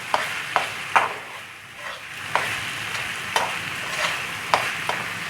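Minced beef with ginger-garlic paste is stirred in a pan over full heat, a spatula scraping in regular strokes about once a second over a constant background sizzle.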